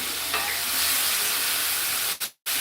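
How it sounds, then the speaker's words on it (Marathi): Raw ground masala paste fries on low gas for a cowpea-pod dish, making a steady, close, bright sizzle that cuts off abruptly twice at the end. "आणि थोडा कमी गॅस करायचा आहे आणि छान असं फ्राय होईल ते पण"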